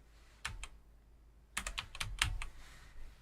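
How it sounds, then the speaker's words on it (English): Close, crisp typing on a computer keyboard, with two quick taps followed by a short burst of rapid keystrokes, in a quiet room. "we're going to type in the word shape."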